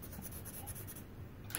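A 6B pencil shades dark layers on paper while a panda drawing is being finished, giving a soft, steady, continuous scratchy rasp at low volume with no voices.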